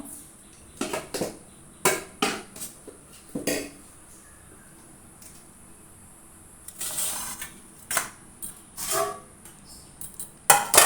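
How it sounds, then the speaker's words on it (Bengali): Cooked rice being served out onto metal plates at home, with scattered sharp clinks and scrapes of utensil against plate, a few louder knocks near the end, and quiet gaps in between. "এই যে থালায় বেড়ে নিচ্ছি সব থালাগুলো বেড়ে নেবো"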